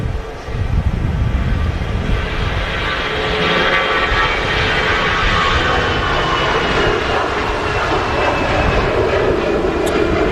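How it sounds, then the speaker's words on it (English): An EasyJet Airbus A320 takes off at Manchester Airport, bound for Rhodes, its engines a loud, steady roar that holds broad and sustained from start to finish, with no talk over it. "It's an EasyJet A320 off to Rhodes."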